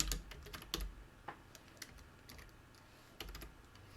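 Keys typed on a computer keyboard while entering a name with the artistic text tool in Affinity Designer, in quick clustered bursts of close, crisp clicks with short pauses between them.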